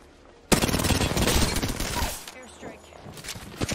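Apex Legends airstrike ultimate pounding down as a loud, sustained barrage of rapid blasts and crackling gunfire that erupts suddenly and then tapers into scattered impacts, with players talking over it.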